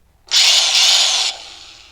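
Cordless grinder motor spinning up in a loud, high, steady whine for about a second, then winding down and fading.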